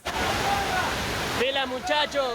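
Floodwater rushes through streets in Guayaquil after heavy rain, a loud steady roar like surf, with a voice talking over the end.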